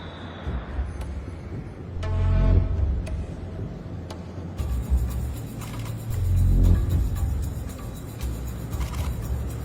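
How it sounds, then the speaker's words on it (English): Cars pull away from an airport, engine rumble swelling and fading twice as vehicles pass at close to moderate range, with a steady traffic drone between. "The brothers leave the airport in separate cars."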